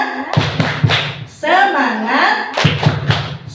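A group performs the tepuk semangat clap chant, sharp rhythmic claps in short bursts at the start and end, with voices chanting in between and over the claps.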